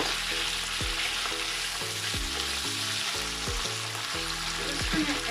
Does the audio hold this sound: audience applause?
no